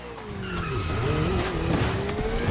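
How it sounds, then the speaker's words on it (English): A Ferrari 488 in The Crew Motorfest video game drives hard with a rising engine whine and squealing tires skidding through a drift, loud and close, continuous over a couple of seconds. "Make way for the Ferrari 488."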